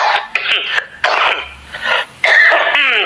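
Several harsh coughs and throat-clearing bursts from one man, close and loud, in uneven clusters over a few seconds with short gaps between them.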